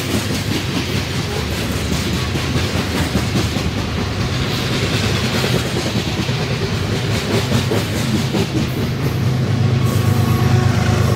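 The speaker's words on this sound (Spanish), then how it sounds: "sobre esta línea es muy común ver este tipo de trenes granoleros" A grain freight train rolls past on a rail line in Irapuato and Salamanca, Mexico, a loud continuous rumble with rapid clickety-clack of wagon wheels over rail joints and some hiss, close and steady throughout.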